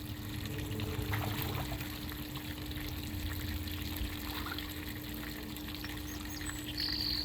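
Pet aviary birds chirp and call in short, faint bursts over a steady trickle of water and a constant low electrical hum.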